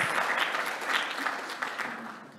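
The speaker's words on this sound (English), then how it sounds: "Yes, that deserved a clap." At a forum, an audience bursts into clapping, a full burst of many hands that stays strong and gradually tapers toward the end, fairly close and without speech on top.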